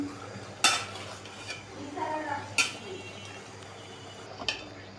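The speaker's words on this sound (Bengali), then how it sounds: "তরকারি লাড়া দিয়ে দিব, লাউটা কষানো হচ্ছে।" A spoon stirs bottle gourd curry as it sautés in a pan, with sharp metallic scrapes and clinks at irregular intervals over a soft sizzle, close and fairly quiet.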